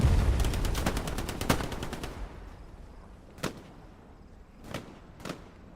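An MG42 machine gun firing in the Hell Let Loose video game, set in the El Alamein desert: a rapid, loud burst for about two seconds, then three isolated sharp shots spaced apart.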